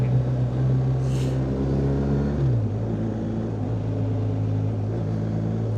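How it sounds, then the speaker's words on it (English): A steady, loud BMW GS motorcycle engine drones while riding, its pitch dropping partway through as the throttle closes and engine braking slows the bike, over wind rumble. "One thing I do like about the GS's, and that's the engine braking."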